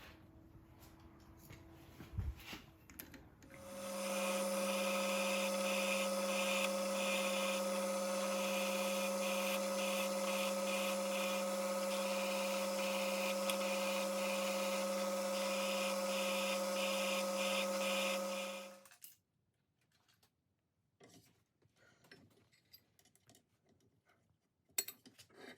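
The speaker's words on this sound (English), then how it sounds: "I'll get a tap drill and tap them" A tap drill runs steadily for about fifteen seconds, drilling and tapping holes in a cast iron part for a generator, a sustained loud machine whine with strong tones that starts abruptly and stops abruptly, alone without talk.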